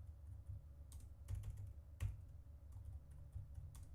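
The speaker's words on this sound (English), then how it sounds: "Feels like I can't type with this keyboard" Clicks from a computer keyboard come in short, uneven bursts of keystrokes, close but quiet, over a low background hum.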